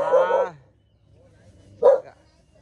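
A dog barks twice, close by, a loud bark at the start and a second after a pause, in a rural Vietnamese village home during a Christmas gift handout.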